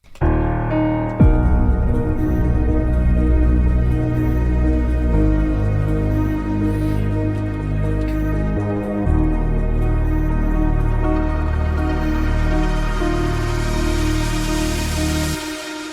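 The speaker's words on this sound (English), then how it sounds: "it's added some reverb on it" A processed vocal in a melodic techno track with a lush reverb tail, sustained pitched tones blurring together into a continuous, washy wall of sound.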